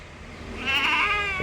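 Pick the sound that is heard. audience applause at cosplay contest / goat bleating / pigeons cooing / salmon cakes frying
goat bleating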